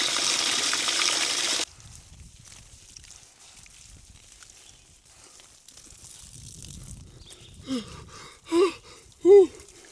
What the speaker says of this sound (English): That is a good shower, but it's cold.